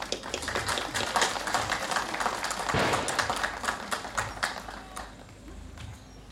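Audience applause rolls through a hall at the opening gala of the 35th Animal and Agricultural Machinery Exhibition in Sitno, 2023: a dense, steady clatter of many hands clapping that fades a little toward the end.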